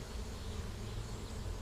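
Honey bees buzz steadily as they draw new comb on a combless frame inside a hive's top box, a dense, continuous low drone held close and unbroken throughout.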